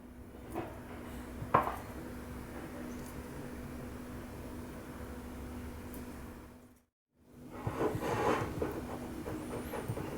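A spoon stirs cream with candied ginger pieces in a bowl, giving a steady soft scraping with scattered light clinks. A brief silent gap comes before the mixing resumes.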